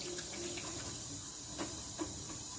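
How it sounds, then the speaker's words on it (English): Hands being washed under a running tap, a steady close hiss of flowing water with a few soft splashes as the hands move through it; no talking. "I got to make sure that I wash my hands first."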